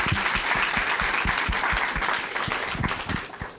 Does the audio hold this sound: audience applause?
yes